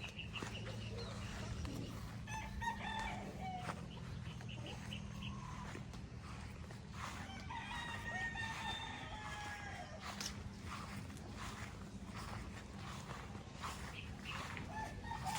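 Chickens and a rooster in a small hut-style coop on a farm, clucking and crowing now and then over a steady low hum of outdoor background noise.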